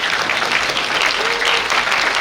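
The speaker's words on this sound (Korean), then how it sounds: "금액의 크기만큼 큰 박수 부탁드립니다" Dense, loud applause from a crowd at a high school graduation ceremony, continuous clapping filling the hall throughout.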